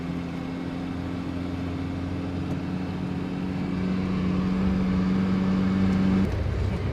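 Steady engine drone inside a tour bus on a road trip through Kazakhstan, a low constant hum with a sustained tone that holds throughout and cuts off near the end.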